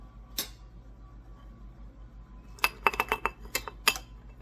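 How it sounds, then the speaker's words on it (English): A rubber spatula scraping egg off a mixing bowl during cookie baking, a burst of several short close scrapes and clinks following a quiet stretch with one earlier tap. "I'm scraping, I'm using the rubber spatula to scrape the egg off of the bowl"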